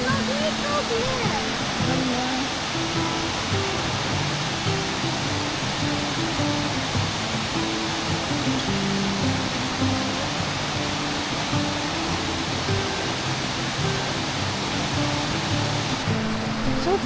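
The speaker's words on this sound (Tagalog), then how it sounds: "This is waterfall, Gully." Water pours steadily at Waterfall Gully in Adelaide, producing a continuous broadband rush that stays even throughout. Voices and other sounds are faintly mixed in beneath the water.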